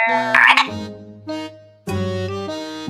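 Frog croaks as part of a frog prank, loud close bursts in three separate groups.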